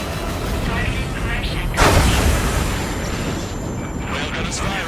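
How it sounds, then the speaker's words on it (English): A railgun fires in Ace Combat 7, one heavy booming blast that swells out of a dense, rumbling battle soundscape and then settles back into the constant roar. "Railgun is firing again."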